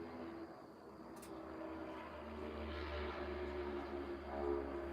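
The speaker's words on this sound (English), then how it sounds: "there's these 4-wheelers and dirt bikes riding up and down our main road here" Dirt bikes and four-wheelers riding up and down a main road, a distant engine drone swelling slowly and fading, steady and fairly faint.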